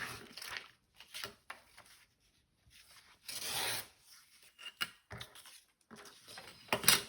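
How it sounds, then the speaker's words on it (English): Envelope paper being trimmed, with scattered short rasping and rubbing bursts separated by quiet gaps, close and fairly soft, no talking. "So to make sure I cover the window, I need to trim this piece off."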